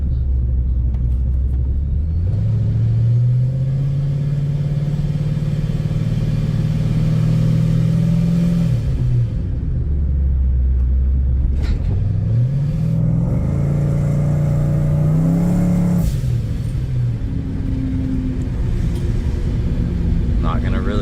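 Supercharged, cammed 2012 Chevrolet Camaro 2SS on E85 driving with its engine loud and close, revving up through the gears with clear pitch climbs and drops at each shift, a person talking over the rumble.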